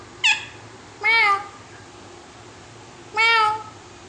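A parrot imitates a cat's meow three times, clear harmonic mewing calls standing out alone against faint background noise.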